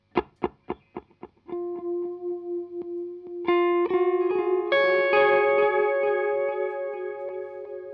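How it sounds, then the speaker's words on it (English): A Walrus Audio ARP87 digital delay pedal with the modulation raised for a warbly, tape-like wobble. A few quick plucked notes lead into sustained guitar notes and chords that ring with delay repeats. No one speaks. "we'll turn the mod up so you kind of get some warble"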